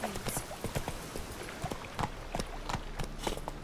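Roach, a horse in The Witcher 3, gallops with quick rhythmic hoof clip-clops, moderately close, while a voice speaks briefly under the hoofbeats.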